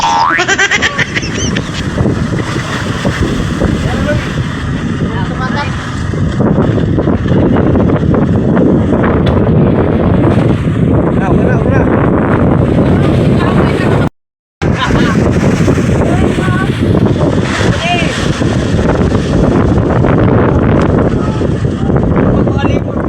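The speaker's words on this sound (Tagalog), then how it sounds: "Grabe lakas ng hangin guys, umuugong. Maingay ang hangin." Loud, blustery wind roars and buffets continuously across the recording, with one brief dropout of silence partway through.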